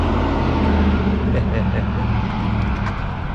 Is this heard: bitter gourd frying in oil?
no